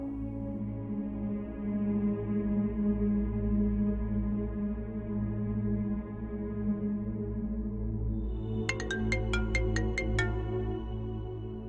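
A phone ringtone plays as a repeating sequence of bright, evenly spaced electronic tones near the end, sounding over a steady tonal background music bed with no talking.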